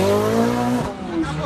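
A Ferrari 488 Speciale race car's engine roars loud and close, its pitch climbing steadily before dropping at a gear change, with voices faintly behind.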